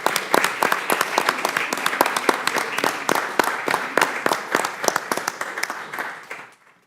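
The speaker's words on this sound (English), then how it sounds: "So, round of applause if everyone would for Rachel." A round of applause in a congressional Rules Committee meeting, a room of people clapping crisply and evenly for several seconds before it thins out and stops.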